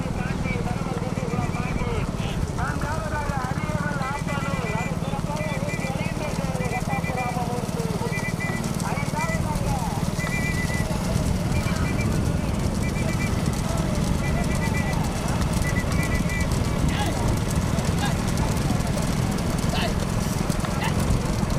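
Bullock cart race on a road at Thiruappanoor, with the small-bull poonchittu class racing. Hooves clatter continuously under a dense rumble of vehicles and crowd, and a voice talks throughout.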